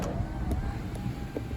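A panoramic sunroof motor on an MG HS 1.5 T-GDI plug-in hybrid SUV hums steadily as the glass slides, a faint, even whir inside the quiet cabin with small clicks along the way.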